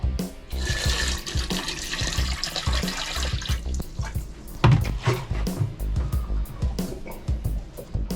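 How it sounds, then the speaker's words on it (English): Water is poured into an RV toilet and gushes for a few seconds, then splashes and gurgles unevenly, with clunks and thumps nearby. "So I'm just gonna pour some water in here."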